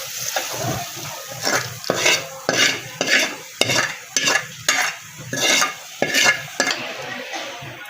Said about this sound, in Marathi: आता ही फोडणी मी या तिखटामध्ये टाकते